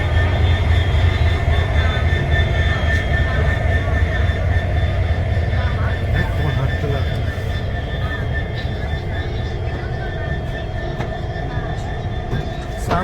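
A row of diesel locomotives idles at a railway station, giving off a steady, loud droning rumble with sustained engine tones that carries on without a break.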